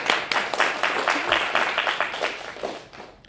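A small audience at a Boulder bookstore talk applauding in welcome, steady close clapping from a modest crowd that gradually thins and fades out.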